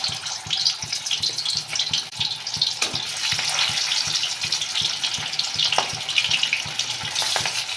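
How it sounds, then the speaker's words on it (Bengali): Shankar fish frying in hot mustard oil in a heated wok, a steady bright sizzle and crackle with regular soft stirring taps running throughout. "তেলটা গরম হয়ে গেলে মাছটা ভেজে নেব। এবার দিয়ে দেবো মাছ।"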